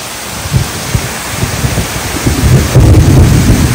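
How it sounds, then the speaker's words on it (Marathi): Loud, low thunder rumbles continuously along with steady rain and wind noise in Poladpur, swelling stronger toward the end. "सुपर गडगडतय"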